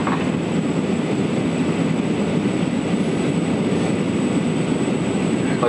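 Airliner taking off at Penang International Airport, Malaysia, heard from inside the cabin as a constant, heavy engine roar and rumble with no talking.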